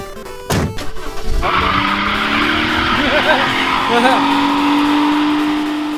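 A car takes off loudly with tires squealing and the engine revving up and holding a rising pitch, following a brief burst of noise at the start.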